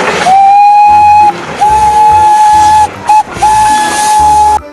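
Toy Thomas train steam whistle blowing in loud sustained hoots with hiss, three long blasts broken by a brief stutter, close and alone.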